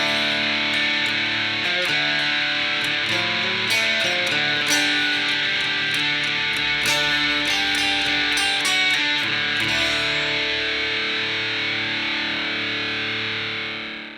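Distorted electric guitar plays the opening riff of a song, ringing chords struck in a rhythmic pattern with sharp attacks and sustained overdriven tone, loud and alone, fading as the last chord decays.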